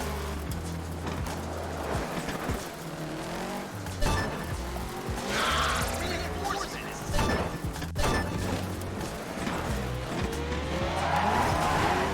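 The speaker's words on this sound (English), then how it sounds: "race to smash as many of these invading robot cutouts as possible" Racing cars in Dirt 3's Invasion mode plough through robot cutouts, giving repeated crashing thwacks over steady engine roar and tire noise, loud and busy throughout.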